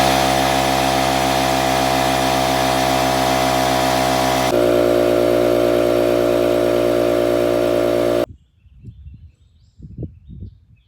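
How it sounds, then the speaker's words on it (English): An air compressor runs at full power, a loud steady motor drone with a buzzing pump tone while the tank fills. Its pitch shifts partway through, then it cuts off abruptly, leaving scattered low thumps and clatter. "Then you can turn on the compressor and let it pump up."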